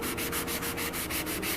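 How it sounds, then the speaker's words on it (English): Hand sanding of a surface to smooth out small dings before a clear gloss coat, a steady rhythmic rasp of back-and-forth strokes, close and moderately loud, with no voices. "I just finished sanding this to just make it more smooth"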